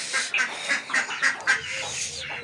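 Several short nasal quacks from ducks, close by, in a quick irregular series over a steady background hiss.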